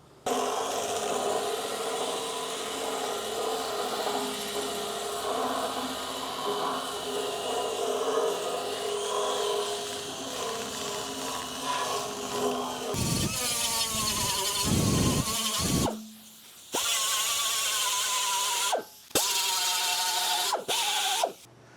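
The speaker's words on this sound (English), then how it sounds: "I'm just going to knock over some of this rusty stuff with this fiber wheel" A power drill whines continuously as a fiber wheel grinds rust off metal, with the motor cutting out and restarting in short bursts near the end.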